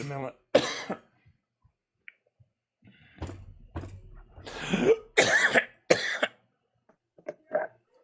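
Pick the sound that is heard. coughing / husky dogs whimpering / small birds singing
coughing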